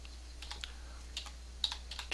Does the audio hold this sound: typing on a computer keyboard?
yes